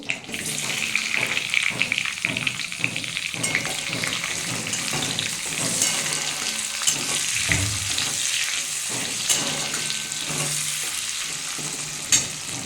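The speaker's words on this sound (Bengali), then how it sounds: "পেঁয়াজ আর টমেটোটা একটু ভেজে নেবো" Onion and tomato frying in a pan after shrimp, a continuous close sizzle with spatula scrapes and stirring clatter through it; watery hissing rises as the vegetables release moisture, and nobody speaks.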